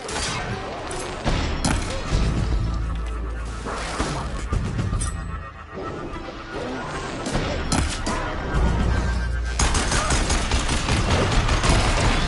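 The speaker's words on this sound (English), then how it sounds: "Fire the cannon!" Cannon fire booms during an arena battle in Horizon Zero Dawn, heavy repeated blasts and crashing impacts over a roaring low rumble, with brief shouted voices in the fray.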